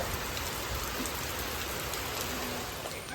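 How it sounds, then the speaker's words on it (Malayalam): Heavy rain pours steadily on a shop's covered veranda, a dense, even hiss of drops on surfaces that holds constant and close throughout, with no voices. "കണ്ട ഭയങ്കര മഴ ഈ മഴയത്ത്"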